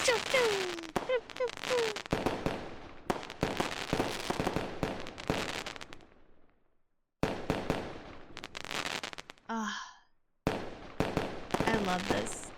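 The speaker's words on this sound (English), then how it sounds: "I love just being here with you guys to enjoy some fireworks." Fourth of July fireworks bursting in a night show, with rapid crackling volleys and booming pops in dense clusters, a short lull, then more bursts, while people talk and exclaim over them.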